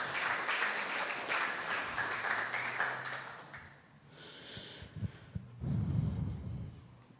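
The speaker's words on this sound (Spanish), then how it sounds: "Dale fuertes palmas al Señor." A church congregation claps loudly for the Lord during a service. The rapid clapping runs for about three seconds and then tapers off, followed by quieter shuffling, breathing and a low hum from the room.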